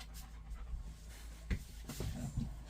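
Dogs pant indoors after coming inside, soft quick breathy panting close by, with a few thumps and shuffles in a quiet room.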